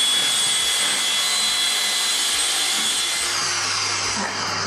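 Electric mixer whisking eggs with sugar for a sponge cake batter at higher speed, a loud continuous whirring hum with steady rattling texture running the whole time, no voices.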